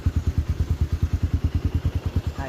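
A Raider motorcycle engine runs close by, with a fast, even stream of low thumping pulses that stay steady throughout, and no voices.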